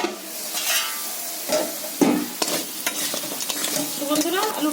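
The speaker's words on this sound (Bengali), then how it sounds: "তো বন্ধুরা আরেকটু আলুটা ভাজা হোক" Potatoes frying in oil in a kadai, with a steady close sizzle and sharp bursts of spatula stirring and scraping against the pan.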